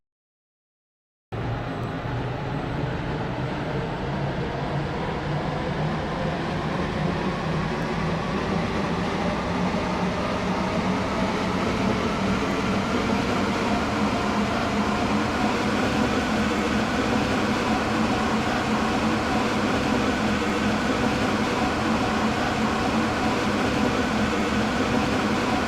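A Stepford Connect train in a video game runs steadily after a brief silence, a continuous rolling rumble and hum that slowly builds over about twenty-five seconds.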